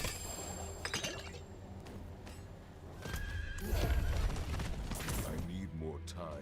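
A horse in the Diablo 4 video game neighs loudly amid clip-clopping hooves and metallic clinks of game sounds, with a voice talking over it.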